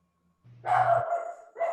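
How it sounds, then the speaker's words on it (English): A dog barks in the background of a village council meeting, giving a single drawn-out, yelping bark that rises and then a second short bark starts, alone and moderately loud. "Sorry, that's my dog."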